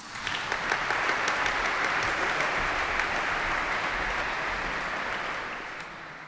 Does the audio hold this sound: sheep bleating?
no